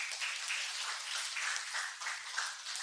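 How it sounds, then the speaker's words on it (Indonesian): Soft, steady applause from a small classroom group, faint and fairly distant, running continuously for a few seconds without talk. "Kita berikan aplaus."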